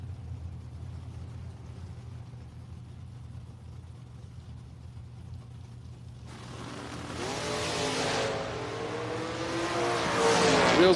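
A Ford Mustang launching at a drag race, starting as a distant low rumble under crowd noise and then swelling into a loud, rising engine roar with the revs climbing through the gears.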